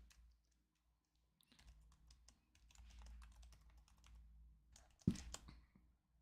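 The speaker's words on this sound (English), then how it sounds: "I hope you can hear my keyboard going." Keys clatter on a computer keyboard in quick irregular bursts, close and fairly quiet, with a sharp louder thump partway through.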